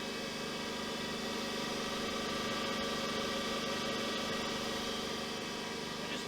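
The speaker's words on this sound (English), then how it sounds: "Yes, the sub spindle's turning the wrong way." A lathe sub spindle turns the wrong way, giving a faint, steady machine hum with a constant whirring drone throughout.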